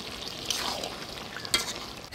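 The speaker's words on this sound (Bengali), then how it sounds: "এবার ভাজিয়ে রাখা টাকি মাছগুলো দিয়ে ঢাকা দিয়ে দিব।" Taki fish and bottle gourd cooking together in a covered village pot, a soft low sizzle with a couple of light stirring scrapes, quiet and close, no voices.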